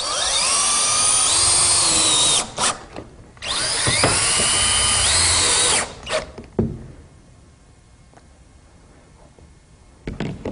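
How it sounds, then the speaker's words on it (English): A power drill drives SSR1 pan screws into a roof drip edge: two long high whining bursts, each winding down with a brief stop between, followed by quieter background and a faint restart at the end. "I'm using a SSR1 pan screw, and I'll be installing these screws about every 12 inches apart."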